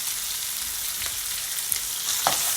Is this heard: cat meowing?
no